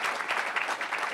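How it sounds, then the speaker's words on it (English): Brief burst of audience applause for a sponsor at a philanthropy gala, a crowd of hands clapping densely and steadily for about a second. "please give them a round of applause"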